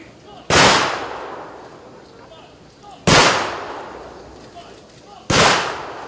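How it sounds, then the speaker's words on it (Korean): An honor guard fires a ceremonial rifle salute at a memorial service, three loud sharp volleys spaced a few seconds apart, each trailing off in a long echo. "고인의 명복을 비는 조총 발사에 이어서 묵념이 있겠습니다"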